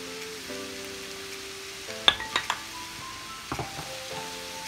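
Vegetarian filling for banh cuon being stir-fried in a pan, a steady soft sizzle under a few sharp scraping clicks of a utensil against the pan, close and fairly quiet, with no talking.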